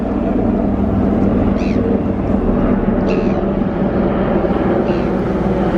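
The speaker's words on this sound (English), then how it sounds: "There's 2 helicopters." Two military helicopters pass overhead near an outdoor charcoal grill, producing a loud, continuous rotor roar that stays steady throughout.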